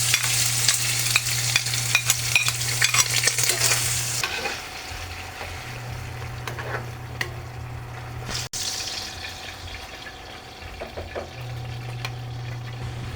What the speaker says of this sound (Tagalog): Stir fry lang natin ng 10 to 15 minutes